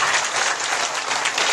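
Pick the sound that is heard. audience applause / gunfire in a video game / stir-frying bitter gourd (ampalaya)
audience applause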